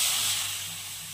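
Water poured into a hot pan for aval kesari hisses and steams sharply, a loud close burst of sizzle that tapers off as it begins to boil.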